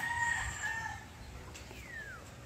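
A brood rooster crows once from a short distance, faint but clear. The call is followed by a couple of softer, rising bird notes over quiet farmyard ambience.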